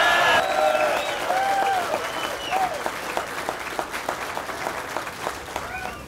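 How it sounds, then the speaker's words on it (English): A rally crowd at a Teamsters labor gathering in St. Louis cheers and applauds, loud clapping and whoops at first that thin into scattered claps. "Let's have a big cheer for labor in St."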